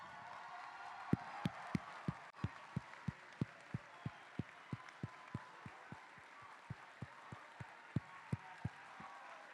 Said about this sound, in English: I want you to stand up and give them a round of applause.